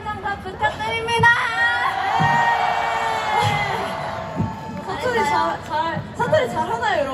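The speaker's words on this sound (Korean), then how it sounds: "대차게 함성 다 부탁드립니다!" A festival crowd at a university campus concert with a K-pop girl group cheers and shouts loudly, a sustained roar of many voices with high screams, swelling and then breaking into scattered shouts and chatter.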